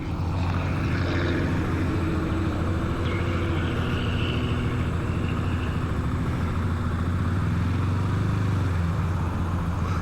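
A Honda Grom motorcycle engine rumbles loud and steady for the whole stretch, up close, with a constant low drone and some road or traffic noise around it.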